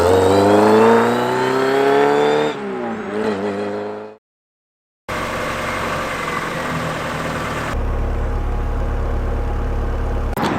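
A Vauxhall Viva 1300 SL, HC-shape classic car, at a chilly morning breakfast car meet: the engine revs up and drops back, then after a brief gap it idles steadily and close, with no talking.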